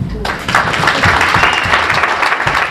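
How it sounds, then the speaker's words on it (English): An audience at a candidate forum stands and applauds teachers: a full, steady round of clapping that holds strong throughout, with a voice faintly under it. "would you stand and let us applaud you for what you do for our kids in our country?"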